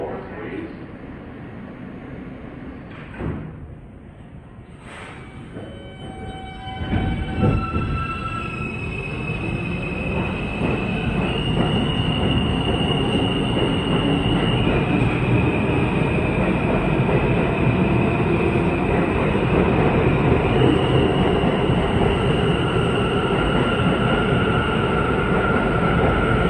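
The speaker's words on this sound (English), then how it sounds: "That R179 scream reminiscent of some Boris Karloff horror movie." An R179 subway car on the E line gives off a loud, sustained high-pitched wheel scream as it rolls through a tunnel, long tonal squeals shifting pitch over rumbling track noise, with a brief station announcement early on.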